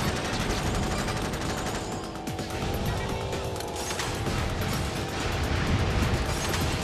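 Dense, continuous battle noise from the game Jak X with rapid gunfire and rumbling explosions, loud and unbroken throughout.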